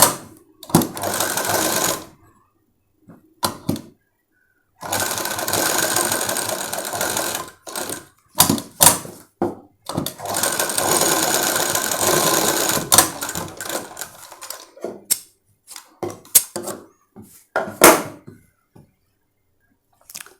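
A sewing machine stitching a designer blouse sleeve runs in several loud bursts of steady whirring, broken by pauses with short clicks and handling noises.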